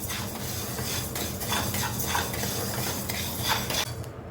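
Fenugreek seeds roast in a pan while a utensil stirs and scrapes them, a continuous busy rattle of metal on metal with soft sizzling underneath, steady and fairly close throughout.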